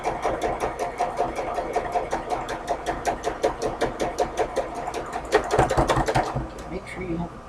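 A sewing machine stitches steadily in a fast, even rhythm of needle strikes, running close and loud with a brief speed-up near the end.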